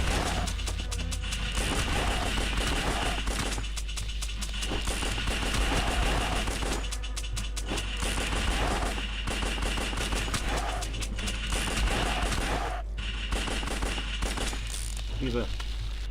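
Dual-wielded guns in the top-down shooter game Larva Mortus fire in dense, continuous bursts of rapid gunshots, loud and relentless throughout with only brief gaps.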